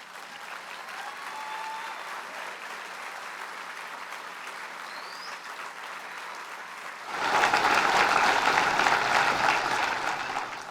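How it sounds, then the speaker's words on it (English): Audience applause at a police merit awards ceremony: steady clapping from a seated crowd for about seven seconds, then swelling into a louder, fuller round that carries on to the end. "give everyone who's received an award tonight another round of applause"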